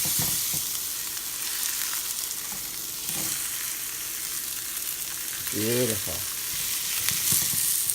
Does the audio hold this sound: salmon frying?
yes